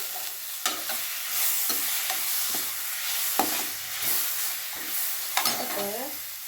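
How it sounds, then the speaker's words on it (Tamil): Curry leaves and a piece of tamarind with coriander fry in a pan for guava chutney, a soft continuous sizzle with repeated scraping stirs, close by. "ரெண்டு மூணு கருவேப்பிலை நல்லா செவக்க வறுக்கணும்"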